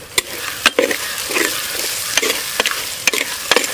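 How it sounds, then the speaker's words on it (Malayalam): Green chillies being stirred into fish curry masala frying in a pan in a village kitchen: sharp spoon scrapes and clicks at irregular intervals over a steady close sizzle, with no talking. "ഇനി നമുക്ക് ഇതിനകത്തോട്ട് പച്ചമുളക് ഇടാം. എന്നിട്ട് നമുക്ക് നല്ലോണം ഒന്ന് ഇളക്കി കൊടുക്കാം."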